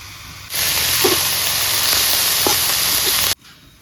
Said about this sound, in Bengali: এখন অল্প লবণ দিয়ে কপি পাতাটাকে ভালো করে ভাজে নিব, জলটা শুকায় যাওয়ার জন্য।